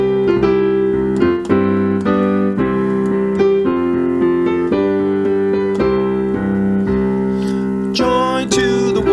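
Intermediate-level solo piano playing Joy to the World, with chords and melody notes struck in a steady rhythm, loud and close, with no voices over it.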